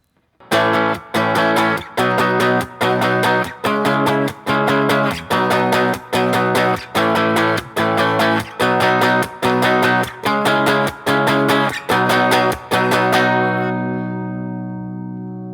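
Distorted electric guitar chords strike in a steady, repeated rhythm, each crisp and punchy, ending with a final chord left ringing out and fading.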